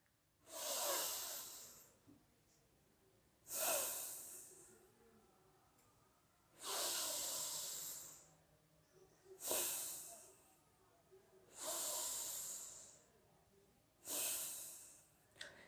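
Deep, slow pranayama breathing, six long airy breaths in an even rhythm with pauses between, close and hissy with no talk.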